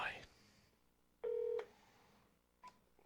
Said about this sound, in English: I have to manually dial Bruce.